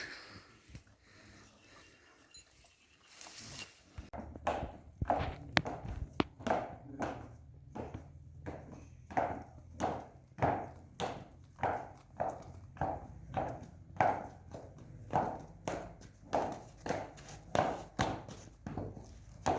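Steady clip-clop of a mare's hooves walking on a hard surface, evenly paced and fairly close, continuing for many strides with no talking.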